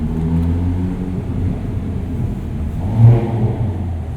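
A Hyundai Veloster N in a parking structure, engine rumbling low and steady, then swelling into a short, sharp rev near the end before settling again, close and echoing within the enclosed space.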